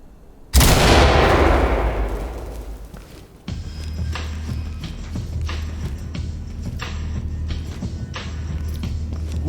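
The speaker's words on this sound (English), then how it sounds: "Okay, readying flashbang." A flashbang and gunfire in the tactical shooter game Ready or Not: a loud close bang with a long ringing decay, followed by steady rumbling action with faint mechanical clicks and shots in the background.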